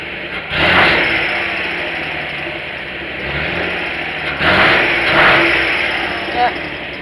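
A custom-built three-wheel car with a Subaru XT6 engine runs roughly, its loud engine surging and dipping in a few uneven revs up close.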